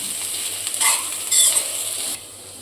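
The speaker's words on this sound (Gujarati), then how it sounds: "ચાલો આપણે ડુંગળી અને કોબીજને સતરાઈ ગયું છે" Onion and cabbage sauté in a hot pan for dhaba-style hakka noodles, a steady close sizzle broken by a few scraping, clattering stirs before the frying eases off near the end.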